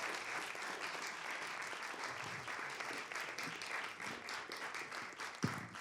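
Sustained round of applause from a live storytelling-slam audience honoring ten storytellers, dense steady clapping filling the room at moderate distance, with one sharp louder clap near the end.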